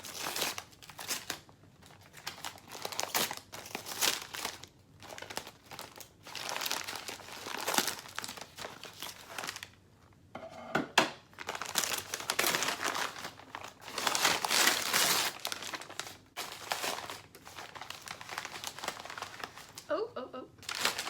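Taped packaging around a plant is pulled open and unwrapped, giving close, loud bursts of crinkling, crackling and tearing paper and plastic in uneven waves, with a voice speaking now and then between the rustles.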